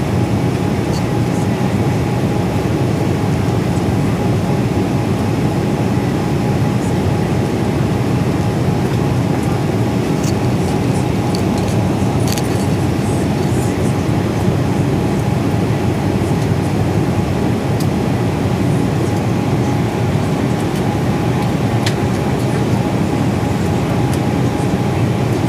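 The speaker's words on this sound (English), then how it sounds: "Taxi and takeoff and fly over Charleston, South Carolina." An Airbus A320 taxis and takes off at Charleston, South Carolina, heard as a loud, steady broadband engine roar that holds throughout.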